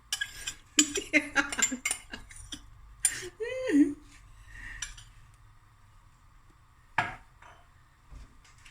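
A utensil knocks and scrapes around a pot during stirring, giving a cluster of clinking taps near the start and a few scattered knocks later. A voice talks between the sounds.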